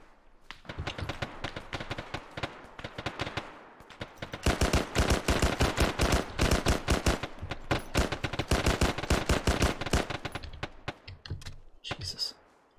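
Sustained gunfire in the video game ArmA during a Cold War firefight near a forest, with dense rapid bursts of automatic fire that intensify midway and continue loudly, close and distant shots overlapping.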